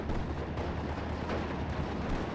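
Vulkanwerfer 88mm rocket launcher firing in the World War II strategy game Company of Heroes 2, a continuous muffled barrage of rumbling rocket blasts and distant explosions throughout.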